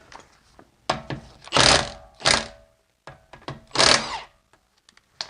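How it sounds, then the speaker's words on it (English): Lug nuts on a car wheel cranked loose by hand with a wrench, several separate ratcheting and clunking bursts of metal on metal, close and fairly loud, with quiet pauses between them. "I'm going to loosen these 2 top lug nuts"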